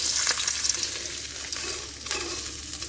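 Parshe fish frying in a pan of hot oil, a steady close crackling sizzle with faint stirring clinks running throughout.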